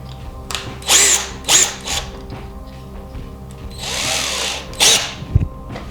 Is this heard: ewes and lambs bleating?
no